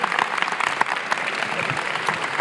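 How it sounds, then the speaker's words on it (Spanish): Audience applause at a Spanish-language family church talk, a steady dense patter of many hands clapping together for a couple of seconds, moderately close, with a voice faintly heard under it. "Si quieres aplaudir, apláudele al Rey."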